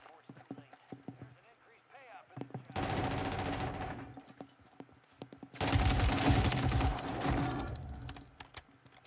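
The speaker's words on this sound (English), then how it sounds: "Not sure what he was shooting at." Bursts of video game gunfire rattle through a live-streamed game session, two long loud volleys breaking over quieter stretches with clip-clopping hooves and voices talking.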